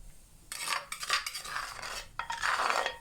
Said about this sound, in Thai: เอาของยาลงมาในกระทะ คั่วนะคะ คั่วให้มันแห้งๆ